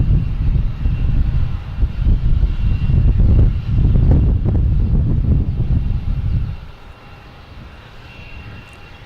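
An Air Portugal airliner takes off at Boston Logan Airport with a heavy, loud engine roar and wind buffeting that swells, then fades sharply as the aircraft pulls away, leaving a quieter distant hum.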